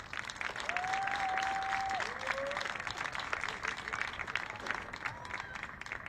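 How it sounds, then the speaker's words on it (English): Crowd applauding the sponsors at a high school stadium dedication, a full sustained round of clapping with some crowd noise and a brief whistle-like tone early on. "So let's give them a big round of applause."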